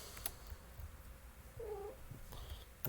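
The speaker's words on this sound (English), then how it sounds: "That was a cat." Pet cat in a room, heard during a survival game, giving a single short meow-like call midway with faint purring rustle, fairly quiet and alone without talk.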